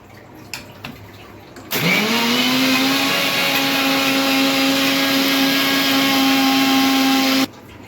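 A kitchen mixer blends milkshake with ice, starting abruptly after a few faint knocks and settling into a loud, steady motor whine with a rising pitch for about six seconds before cutting off sharply.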